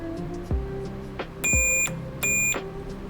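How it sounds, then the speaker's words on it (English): Two steady electronic beeps from a continuity tester checking a Game Boy Advance switch, each about half a second, with clicks and low hum between them. "when I push the button, it should start beeping."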